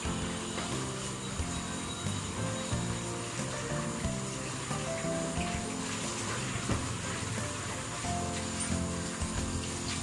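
Water runs steadily from a kitchen sink tap while something soaked in hot water with salt and soda is washed, a continuous close splashing flow with tonal background sounds.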